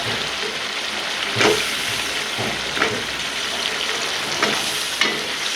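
Bottle gourd leaves frying with a cooked-down spice paste in a pan, a continuous close, dense sizzle with periodic stirring scrapes, no voices.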